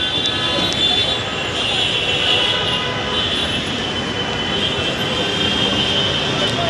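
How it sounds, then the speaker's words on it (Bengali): A metro train rumbles past close by, steady clattering wheels with a high metallic squeal running throughout. "একটু পরপর মেট্রো আসছে এখান দিয়ে পাঁচ মিনিট পরপর"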